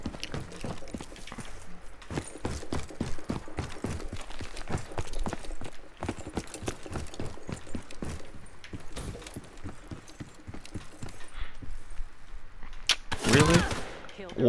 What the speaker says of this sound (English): This time you get to see me wreck kids with a submachine gun.